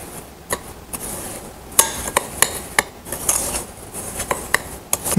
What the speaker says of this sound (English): Then we'll just mix this together.